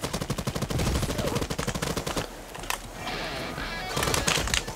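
A semi-automatic gun fires in the video game Hawked, with rapid, loud repeated shots in a dense burst, then scattered shots and effects.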